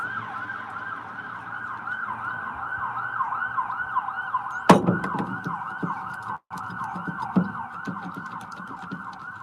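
An ambulance siren wails in a steady repeating up-and-down cycle, fairly loud and sustained, with a brief sharp knock partway through.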